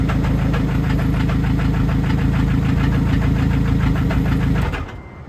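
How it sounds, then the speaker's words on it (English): Scion tC engine running with suspected rod knock, a loud, close, steady metallic rumbling idle with rapid repetitive knocking, cutting out near the end as the engine shuts off. "if it is rod knock that it has right now"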